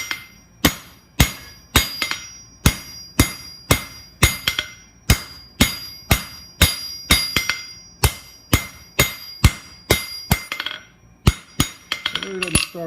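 Hammer blows cold forging aluminum on an anvil to taper a snake shape, a rapid even run of sharp ringing metallic strikes, close and loud, roughly two per second with a brief pause near the end.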